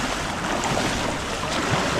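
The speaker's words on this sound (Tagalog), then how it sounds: "Lakas ng agos." Strong river current surging through a dam spillway, a steady broadband roar of rushing water that fills the whole clip without pause, close and loud, with no voices over it.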